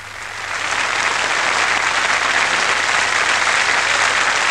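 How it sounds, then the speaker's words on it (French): Audience applause after a conducted performance of Boccherini's Minuet, dense sustained clapping that swells in over the first second and holds steady and loud. "Je crois que le public va vous applaudir comme il convient."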